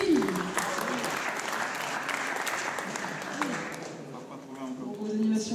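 Steady applause from an audience at a live concert fills the whole stretch, dense clapping at an even level with a brief tonal sound early on.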